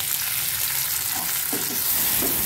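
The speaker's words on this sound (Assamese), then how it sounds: "পটলখিনি একেলগে ভাজিম।" Pre-fried pointed gourd tossed back in with onion in a pan of hot oil, giving a dense, constant sizzle and hiss with a few soft scraping stirs, close up and no voices.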